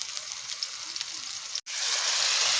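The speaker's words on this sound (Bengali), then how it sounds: "তো এটা আবারও কিছুক্ষণ ভেজে নিতে হবে একসাথে।" Chicken and onions fry in a pan with ginger-garlic, giving a loud, steady, close sizzle. It drops out for a moment, then returns stronger and fuller.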